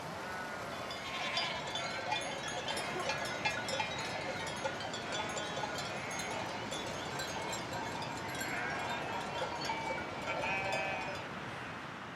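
A herd of sheep and goats moves at a steady pace along an open, rocky mountain path, with overlapping bleats and clanking bells over a continuous shuffle of hooves, moderately close.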